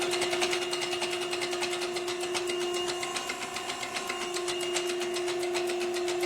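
A diesel engine cranks over on a test run of a rebuilt Stanadyne DB4 injection pump, a fast, steady mechanical chatter with an even whine holding throughout, close and continuous.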